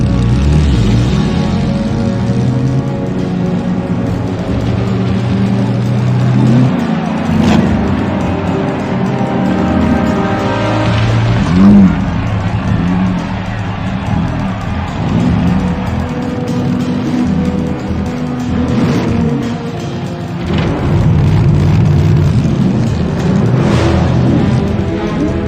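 Race cars in The Saboteur, a video game, rev and roar at the start of a race, a dense sustained engine drone with shifting pitch, loud and continuous throughout.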